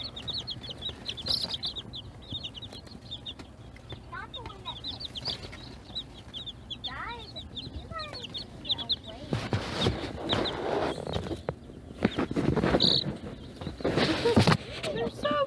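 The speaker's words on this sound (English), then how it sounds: "so we got 15 adorable little baby chickens" Many baby chicks, including Buff Orpingtons, peep steadily in high, thin chirps throughout, with rustling and handling noises growing louder in the second half.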